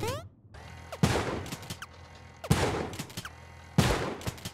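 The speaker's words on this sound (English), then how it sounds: "See, we have a little flying bullets." Gunfire with flying bullets in a video game, three loud bursts of rapid shots spaced a second or two apart, each ringing out and fading, close and punchy with quieter game sounds between.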